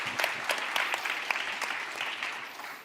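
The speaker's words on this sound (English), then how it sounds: "I'm clapping. You don't have to clap." Scattered clapping from a small group at a tech conference demo, individual claps distinct and irregular at first, then blending into light applause that fades slightly toward the end.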